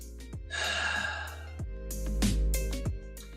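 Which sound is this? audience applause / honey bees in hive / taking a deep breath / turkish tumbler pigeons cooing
taking a deep breath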